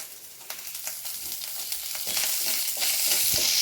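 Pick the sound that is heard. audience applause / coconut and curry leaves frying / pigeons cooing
coconut and curry leaves frying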